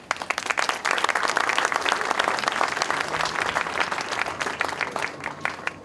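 A crowd at a holiday market event bursts into dense, sustained applause, many hands clapping loudly and steadily for several seconds before easing slightly.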